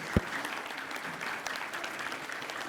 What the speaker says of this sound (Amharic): እስኪ አንድ ሞቅ አድርጋችሁ አጨብጭቡልኝ